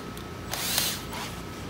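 A power drill spins a tungsten electrode for TIG welding prep, giving a short, close whirring burst that swells and fades over under two seconds, with no talk.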